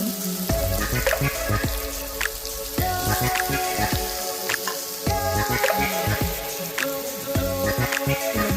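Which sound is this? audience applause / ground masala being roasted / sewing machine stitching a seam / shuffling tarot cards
ground masala being roasted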